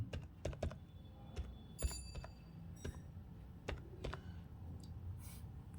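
Computer keyboard typing a title into an online form: scattered quick key clicks in short bursts with pauses, close and fairly quiet over a faint low room hum.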